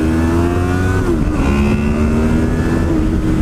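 A 2015 Honda VFR800X Crossrunner motorcycle fitted with an Akrapovic exhaust revs close and loud, its engine note rising and falling in a continuous throaty drone.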